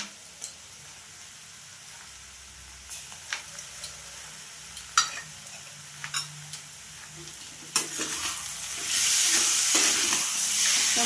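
Ginger garlic paste fries in a pan with salt, a quiet background sizzle broken by scattered scraping stirs, then the hiss suddenly swells louder and steadier near the end.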